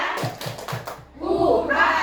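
Teachers at an Indonesian elementary school, SDN 3, perform the Tepuk PMM clapping chant. Four even, crisp claps are followed by a group of voices chanting together, close and fairly loud.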